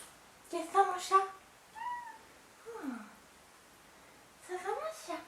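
A pet cat meows several times indoors, with a cluster of close calls early on, a few softer single meows in the middle, and another burst near the end, while someone speaks to it between calls.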